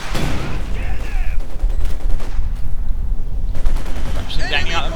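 Company of Heroes 2 battle audio carries dense rattling gunfire and machine-gun bursts with booming impacts, loud and continuous, while in-game voices shout over the fighting.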